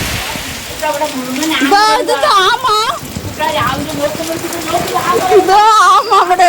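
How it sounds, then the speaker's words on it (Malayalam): Steady rain on a rainy day pours down in a close, continuous hiss, heard under someone talking throughout. "എന്താ മഴ അല്ലേ?"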